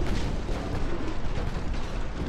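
Naval artillery fire sinking an enemy battleship in Ultimate Admiral Dreadnoughts: dense, continuous booming rumble of overlapping heavy gun blasts and explosions, loud and unbroken, no talking.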